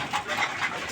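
A Giribaz pigeon of original Hammer bloodline gives a brief, soft coo, close by, in a quiet setting with no talk.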